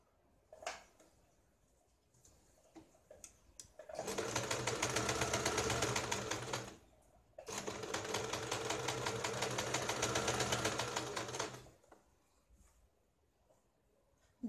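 A sewing machine stitches blouse lining with long rough basting stitches, running in two sustained bursts of several seconds each, separated by a brief pause, with quiet handling noises before and after.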